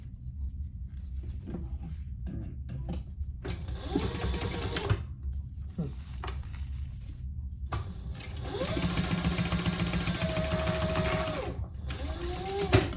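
A sewing machine top stitches a fabric waist pack in several bursts, short stitching runs at first and then a longer steady whirring run, with clicks and handling noises between them.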